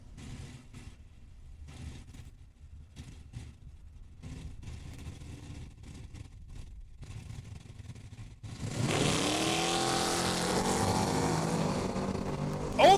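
At Saskatchewan International Raceway, a 1967 Chevy Camaro and a 1989 Ford Mustang idle with rough, loping engine pulses, then launch into a sudden, loud, sustained roar as both accelerate hard down the drag strip.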